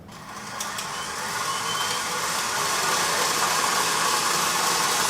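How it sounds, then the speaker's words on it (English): A stand mixer beats softened butter for a French silk pie with a steady motorized whir and hum that builds slightly in the first seconds, then holds an even drone. "we're going to pop this in our stand mixer, and we're going to go ahead and beat this"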